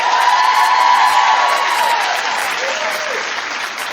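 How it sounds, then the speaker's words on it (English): Loud, sustained clapping from a television talk show studio audience, with scattered cheers and whoops in a dense, even wash that tapers slightly toward the end. "Clap if you are too."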